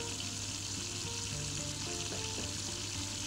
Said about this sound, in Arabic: حطينا معلقه كبيره سمنه، بصل، ملح وفلفل، واللحمه المفرومه طبعا عصجناها